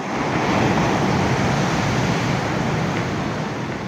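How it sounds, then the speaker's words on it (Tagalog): Continuous roar of surf with heavy wind rushing across the microphone, loud and unbroken throughout. "sa ngayon yan malakas pa rin yung alon"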